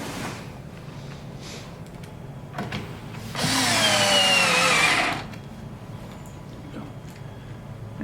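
Cordless driver running a screw into cabinet panels during assembly, a single whirring burst of about two seconds, close and loud, with quieter handling noises around it.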